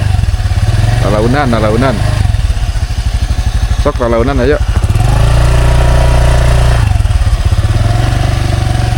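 A motorcycle engine idles and putters steadily close by on a night ride to a prayer hall in Kampung Cimanggu, while someone speaks briefly over it.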